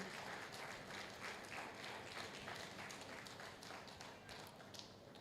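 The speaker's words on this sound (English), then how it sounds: "Please let's give a round of applause for him." Attendees at an entrepreneurship lecture applaud a Lagos white cap chief of the Agoro family, a faint, even patter of many hands clapping continuously, heard at a distance in a hall.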